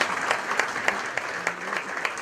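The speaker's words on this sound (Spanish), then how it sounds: "Con un sentido aplauso y de pies todo el auditorio fue como recibieron a los jugadores" An auditorium audience on its feet applauds football club players and officials, steady dense clapping with a few sharper individual claps, moderately loud and continuous until an abrupt cut.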